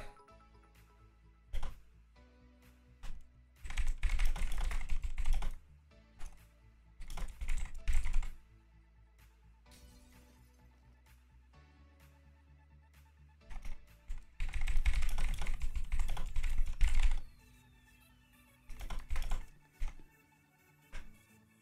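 Rapid clattering keystrokes on a computer keyboard come in several bursts of a few seconds each, separated by pauses with faint background tones, close and clear.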